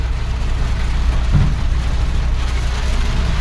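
Heavy rain pounding on the Diu to Rajpura road, heard from a vehicle, with a steady broadband roar and a low engine rumble underneath throughout, loud and continuous.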